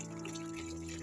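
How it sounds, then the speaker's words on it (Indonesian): Running tap water pours steadily over raw squid as it is rinsed and squeezed by hand in a sink, a continuous close, soft splashing trickle with no talk. "Siram dengan air mengalir sambil diremas-remas cuminya"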